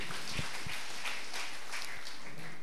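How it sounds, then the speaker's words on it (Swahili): A church congregation at a Lutheran Sunday service claps together, a soft, steady wash of many hands sustained for a couple of seconds with a few sharper claps, heard at a distance. "umpe Yesu makofi mazuri"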